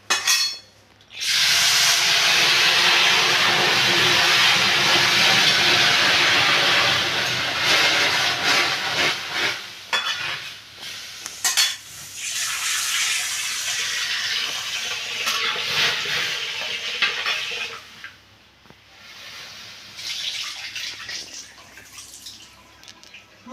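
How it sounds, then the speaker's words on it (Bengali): Roasted moong dal being washed with water, a long loud rushing pour from a tap with splashing, easing off and returning in softer bursts, close by and without talk. "এবার আমি এটা একটুখানি ধুয়ে নিচ্ছি দেখুন"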